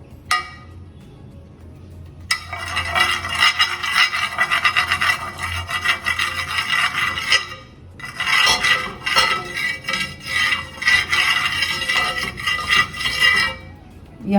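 Oil being rubbed by hand over a cold, unheated iron griddle, a steady close rasping and scraping that pauses briefly midway, then resumes in busy strokes.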